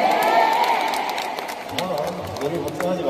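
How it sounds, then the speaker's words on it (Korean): A fan meeting audience claps and cheers in a crowded hall, the noise swelling at first and then fading as a voice speaks over the remaining applause. "많은 박수 보내주실 수 있죠."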